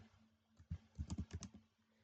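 Someone types code on a computer keyboard, producing a quick, quiet run of close keystroke clicks over a soft background hum, after a brief pause.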